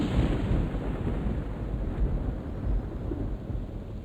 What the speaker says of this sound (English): Why is it always raining in Unrest?